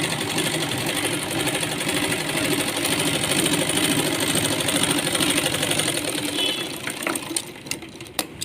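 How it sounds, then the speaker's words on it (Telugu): A sewing machine runs steadily while stitching the seam of a Punjabi dress pant, its fast even whir holding for about seven seconds before breaking into a few short stops and restarts near the end. "దీని గ్యాప్లో మళ్ళీ ఒక కుట్టు మనం వేసేసుకోవాలి"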